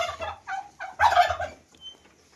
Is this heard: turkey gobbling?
yes